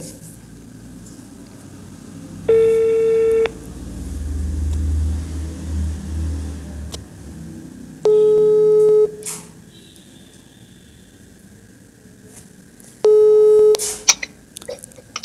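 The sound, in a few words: phone busy tone after call hung up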